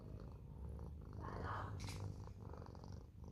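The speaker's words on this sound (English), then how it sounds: "my cat is sitting right here next to me" A cat purrs steadily at close range, a low continuous rumble with a brief soft brush of noise partway through.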